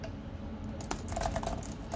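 Typing on a computer keyboard during a handheld firmware update, a steady run of close clicking keystrokes that grows busier and louder in the second half, with no talking.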